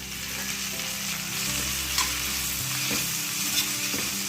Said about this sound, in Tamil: இந்த வெங்காயம் நல்லா வதங்கி வரட்டும்.